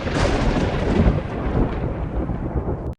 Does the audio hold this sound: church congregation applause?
no